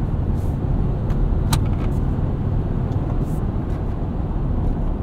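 A 2024 Toyota Tacoma pickup driving in sport mode produces a loud, steady low engine and road rumble from inside the cabin, with faint intermittent higher noises over it.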